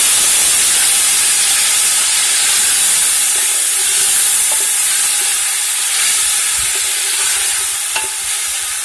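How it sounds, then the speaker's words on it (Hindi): Spices and tomatoes fry steadily in a pan while chicken white kishmish pulao is cooked, a continuous close sizzle and hiss with occasional soft stirring clicks, and no voices. "टमाटर अच्छी तरह से भून लेते हैं ताकि मसाला अच्छी तरह से तैयार हो जाए"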